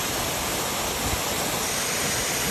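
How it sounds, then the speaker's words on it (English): A waterfall beside a hiking trail roars steadily in a dense, unbroken rush of falling water, loud and close with no voices over it. "You can see the waterfall there."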